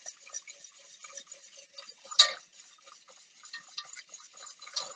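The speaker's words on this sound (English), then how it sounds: "And just continue whisking" A whisk beats egg yolks and sugar in a bowl for custard, giving quick, light, rhythmic ticking strokes with one sharper clink, close up and fairly quiet, with no talk.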